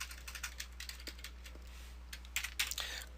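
Fingers tap a computer keyboard while entering a street address into web page code, a steady run of light key clicks in irregular rhythm, close and fairly quiet, with a slightly louder burst of keystrokes near the end; no speech.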